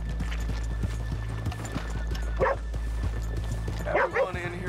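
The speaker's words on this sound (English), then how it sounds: "Let's leave the horses here off the main drag." Horse hooves clip-clop in a steady, close rhythm in Red Dead Redemption 2, with a dog barking and brief speech breaking in over a low rumbling background.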